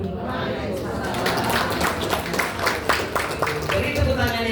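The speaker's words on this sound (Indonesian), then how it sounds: "Beri tepuk tangan yang meriah untuk Ibu Raudati SAG" An audience at a school principals' good-practice sharing session claps in a sustained, fairly loud burst, with chatter and voices mixed underneath the clapping throughout.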